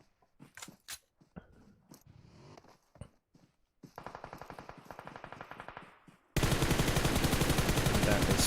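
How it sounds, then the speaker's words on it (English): Gunfire from the battle-royale game PUBG Mobile during a tournament match: scattered single shots at first, then a run of rapid automatic bursts, ending in a loud, dense continuous volley. "Payne trying to take some shots onto Langs, but will not be able to get that one."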